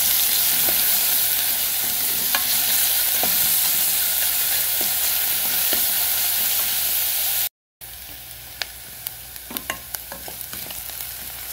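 Onion fries in a hot pan as it is stirred, a loud continuous sizzle with scattered scraping strokes, broken by a brief silent gap before the frying resumes with sharper clicks.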